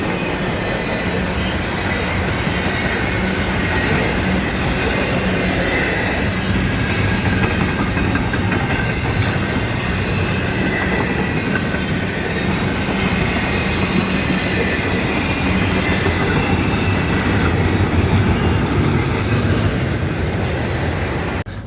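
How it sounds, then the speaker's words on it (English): A Union Pacific freight train rolls past in snow, a steady loud rumble of rail cars and wheels with clickety-clack and occasional wheel squeal throughout, no voices. "Here comes the end of it right here."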